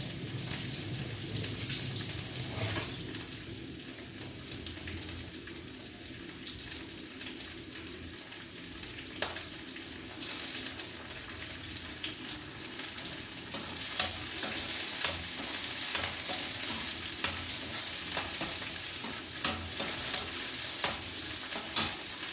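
Brinjal frying in a pan on a stove for bartha, a steady soft sizzle with stirring scrapes, growing a little louder and crackling toward the end.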